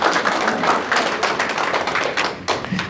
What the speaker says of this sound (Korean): 우리 축하 박수 한번 부탁드릴까요?